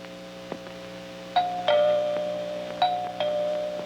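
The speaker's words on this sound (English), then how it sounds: "as the bell sounds" A boxing ring bell at a televised fight clangs in two double strikes, each leaving a long ringing tone that decays over a steady broadcast hum and faint crowd noise.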